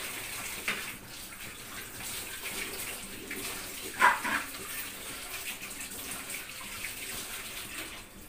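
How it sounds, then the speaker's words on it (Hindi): A bottle gourd being rinsed under running water, with a soft continuous flow and one brief splash or knock partway through, fairly faint. "ये मैं लौकी धो लेती हूँ।"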